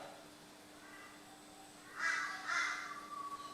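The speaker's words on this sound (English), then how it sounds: "The old crow in the background," Two loud, harsh crow caws come in quick succession from the bush beside a paddock, standing clearly above a quiet outdoor background with no talk.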